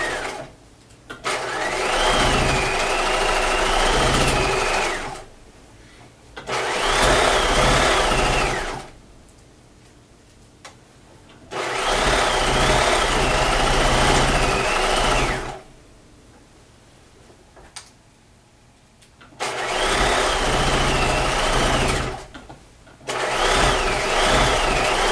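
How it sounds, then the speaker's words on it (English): Domestic sewing machine with an edge stitch foot stitching fabric, loud close whirring in several sustained bursts of a few seconds each, separated by short pauses. "I'm using my edge stitch foot again, and then just stitching this down."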